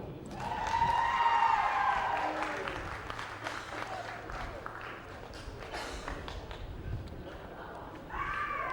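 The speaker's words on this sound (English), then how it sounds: "Round of applause again, ladies and gentlemen" A stadium crowd applauds at the ceremony after a rugby final, a distant, swelling roar of clapping and cheering, with a public address voice speaking over it and the applause fading then rising again.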